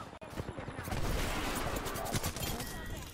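Gunfire in Apex Legends, a dense rattling burst of shots that swells and holds for a few seconds, loud and close with game sounds around it.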